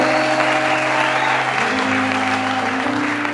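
A church congregation breaks into steady, loud applause, dense clapping filling the space with a faint sustained musical tone underneath.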